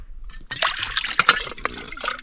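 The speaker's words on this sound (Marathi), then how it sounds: "म्हणजे टाका सर पाणी" Water pours and splashes over dishes being washed by hand, in loud, uneven bursts that start after a brief quiet moment and continue steadily for about two seconds.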